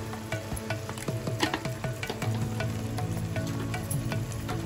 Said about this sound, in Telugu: ఇప్పుడు కలుపుతున్నాము.